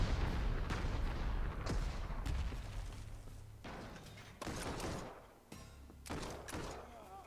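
Strategic bombers striking French troops in Panzer Corps 2 on the France Blitzkrieg campaign: a run of heavy thumping blasts and booming impacts at a steady, fairly loud level, with low rumble filling the gaps between hits.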